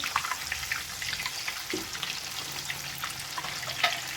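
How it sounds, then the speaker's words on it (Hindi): Chicken pieces fry in hot oil in a pan, giving a steady, close, hissing sizzle with small pops throughout and no voices over it. "और इस दूसरी तरफ से भी हमें इसी तरह से फ्राई कर लेना है।"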